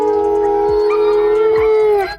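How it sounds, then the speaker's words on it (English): Wolves howl as a pack, a loud, close, sustained wail with a second voice joining, holding steady before trailing off, with no talking. "According to him, Ellis learned their howling cues."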